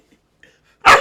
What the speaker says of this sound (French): Non, on n'aboie pas.